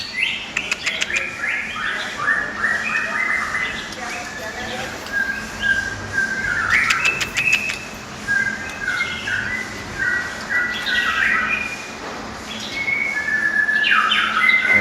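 A white-rumped shama (murai) sings close by, a rich varied stream of whistled phrases and chirps in repeated bursts, with faint background noise throughout.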